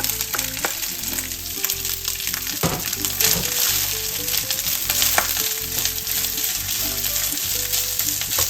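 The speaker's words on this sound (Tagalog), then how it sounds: "Magsangag na po tayo." Garlic fried rice (sinangag) fries in garlic spaghetti oil with a close, continuous crackling sizzle, stirred with scraping strokes and occasional sharp pops, while a low steady hum runs underneath.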